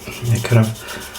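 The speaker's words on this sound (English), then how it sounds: "this is a 5B pencil lead, just rubbing it into the black paint." A soft 5B pencil lead rubbed onto black-painted parts of a 1/24 scale Airfix Spitfire Merlin engine model, two short close scratchy strokes followed by faint noise.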